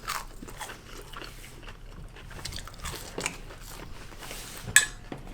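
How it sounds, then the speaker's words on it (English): Someone chews a mouthful of McDonald's chicken nuggets during a 100-nugget eating challenge, giving soft, continuous moist chewing and biting sounds close to the mic, with a sharper crunch or clink near the end. "I've just been putting 3 in my mouth when I'm not even done chewing."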